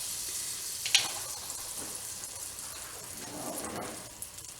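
Butter, two tablespoons, melting in a hot pan while making pork tenderloin, giving a faint, steady hiss with a soft crackle near the start and no talk.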